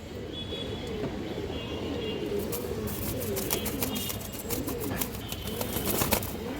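Afsan Bagha or Silver pigeons in a loft, soft cooing mixed with scattered clicks and rustling under steady background noise, moderately close.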